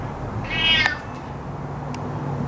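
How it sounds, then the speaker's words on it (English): A cat meows once, a short, clear, fairly near call in a quiet indoor space with low background hum and a faint click afterward. "I got this cat."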